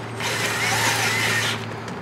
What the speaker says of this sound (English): All we have to do is loosen that hose clamp up.